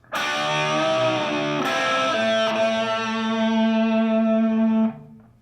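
A full measure of metal lead on distorted electric guitar: a bend up and back, a barred double-stop, then two sustained notes, loud and continuous before stopping abruptly, no voices.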